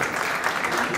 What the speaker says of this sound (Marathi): त्यासाठी एकदा जोरदार टाळ्या.